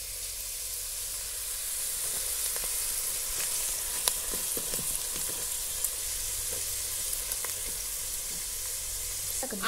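Chopped onion and Kolhapuri red chili powder frying in a ladleful of oil, giving a steady, close sizzle throughout with occasional faint stirring clicks and no talking.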